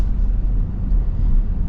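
A 2025 Ford F-350 XLT with a Powerstroke V8 diesel engine runs with a smooth, steady low rumble, close and continuous with no pauses.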